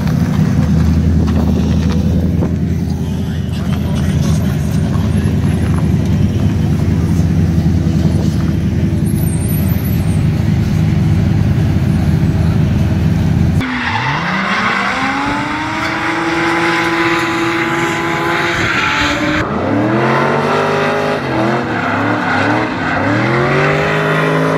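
Race cars rumble close by in the paddock at the Nürburgring Drift Cup with deep engine drone, then revving engines rise and fall in repeated sweeps as vehicles accelerate past, loud and near.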